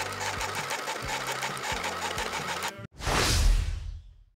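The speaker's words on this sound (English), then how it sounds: "Yes, the printer is working." Psion II thermal printer, modified for USB-C power, printing with a rapid, regular mechanical chatter and thumps for a few seconds, then a loud whooshing feed or tear as it finishes, close and clear.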